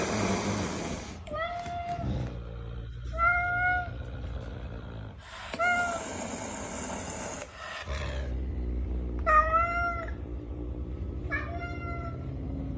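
A house cat purrs loudly with a rough, engine-like rumble underneath several drawn-out meows that come in uneven bursts, close by and clear.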